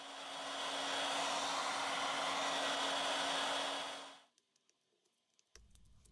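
A heat gun or hair dryer blows a steady, close whoosh on a Xiaomi Mi 5C phone screen for about four seconds, then cuts off, followed by a few faint clicks and handling noises.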